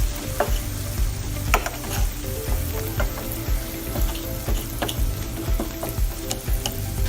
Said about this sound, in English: Give this a nice little stir.